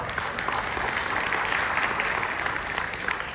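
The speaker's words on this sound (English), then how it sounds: "Give them a big round of applause." An audience at a leadership conference and women's professional awards event breaks into applause, a dense steady wash of clapping that carries at even volume for a few seconds.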